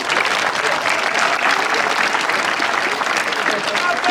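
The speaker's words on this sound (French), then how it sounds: "Je demande que tout le monde applaudisse fort." A crowd at a medieval festival street show gives loud, dense, continuous applause that holds steady throughout, with voices mixed into the clapping.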